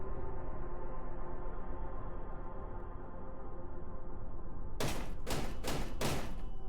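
Four heavy bangs on a door in the video game Cataclysm DDA land in quick succession near the end, over a steady low droning game ambience.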